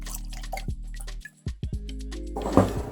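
Dark whiskey pours into a glass with liquid drips and gurgles over a steady low hum, ending in a louder splashing burst.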